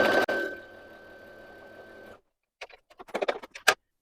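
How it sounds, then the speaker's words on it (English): A sewing machine stitches a fabric strip for a scrappy quilt, running in a steady whirring buzz for about two seconds before stopping, then a few light clicks and taps of handling follow. "I'm going to sew it down on the right side of the strip like this, keeping it straight"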